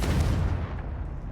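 A Confringo fire spell blast in Hogwarts Legacy booms out with a heavy low-end burst that decays over about a second into a rumbling wash, fairly loud and alone.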